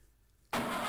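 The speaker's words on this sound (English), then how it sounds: "Start your engines." Car engines fire up in the Amiga racing game Jaguar XJ220, with silence abruptly giving way to a loud, sustained burst of engine roar halfway through.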